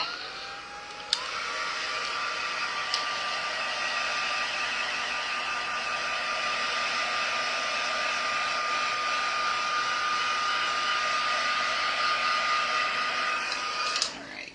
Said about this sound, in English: let me just get my heat gun here and let's just dry it a little bit